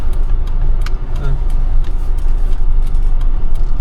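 A car's steady mid-range engine hum and road noise continue as it slows to park at a roadside pork restaurant, with people talking over it.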